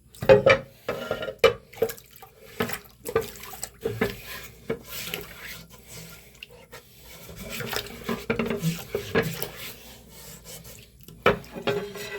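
Water rinsing a Naniwa Snow White 8K whetstone and its plate, irregular splashing and trickling with scraping and rubbing sounds in uneven bursts, fairly close and moderate in level, no talking.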